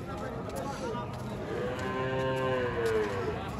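A cow lets out a long, drawn-out moo amid the steady murmur of a busy village cattle market where cows and calves are sold, with crowd chatter underneath.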